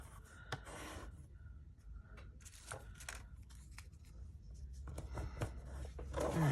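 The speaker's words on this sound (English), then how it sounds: "Let me cut one of those out." Scissors snip through paper to cut out a dark green vintage journal tag, with a series of quiet, irregular cuts and rustles close by.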